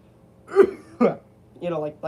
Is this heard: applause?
no